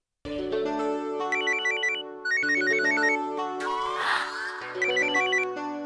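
A telephone rings in a home with a repeating electronic ringtone melody, loud and continuous for several seconds, with a brief pause partway through and no speech.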